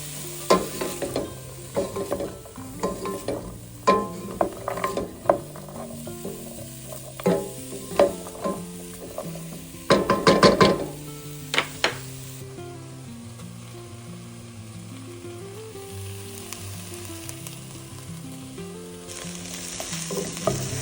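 Vegetables sizzle in a soup or stew pot while a spoon stirs and scrapes them in repeated clattering strokes, a steady frying hiss running underneath.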